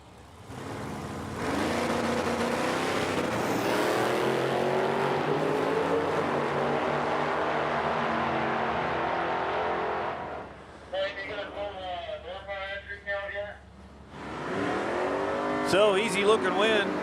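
A 1971 SS Nova and a Chevelle drag racing at the Oil City Classic in Edmonton, Alberta, with loud, sustained engine roar for about nine seconds, then a brief spoken announcement and more engine noise at the end.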